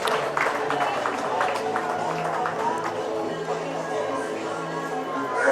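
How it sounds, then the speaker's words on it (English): Fans at a USPBL minor-league baseball game, Westside Woolly Mammoths vs. Birmingham Bloomfield Beavers, give a steady round of applause, many scattered claps blending into a sustained crowd wash with murmuring under it. "And gets the applause from the fans."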